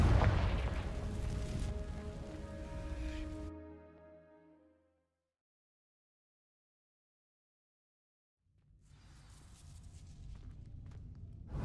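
A Confringo fire spell igniting dry vines in Hogwarts Legacy: a loud, deep burst of fiery crackling and rumble that fades into silence, followed by a low rumbling swell of renewed burning and movement.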